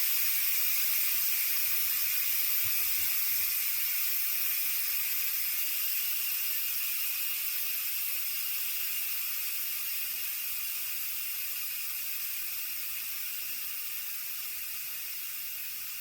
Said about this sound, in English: Wait until the steam stops making noise and coming out of the thing.